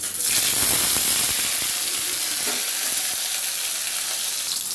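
Tomato drops into hot mustard oil tempered with cumin seeds, bursting into a loud, close sizzle that slowly settles into a steady frying hiss.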